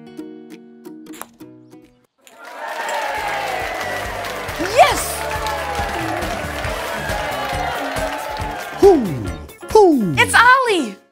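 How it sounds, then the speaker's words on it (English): Preschool children cheer and shout together in a lively burst lasting several seconds, loud and close, with voices rising and overlapping. The cheering follows a short quiet moment and gives way to playful speaking voices at the end. "Did I hear some cheering from you?"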